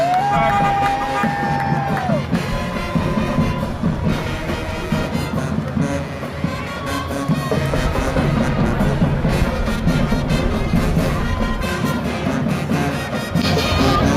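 A large crowd at a Saint Patrick's Day parade in Fort Lauderdale, Florida, claps and cheers continuously, with whoops and shouts rising over the steady roar; the noise stays loud throughout.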